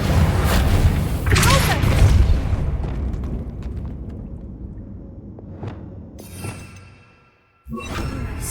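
Confringo fire-blast spell from Hogwarts Legacy: a loud booming explosion with whooshing bursts, rumbling and fading over several seconds, followed by a brief silence and another blast near the end.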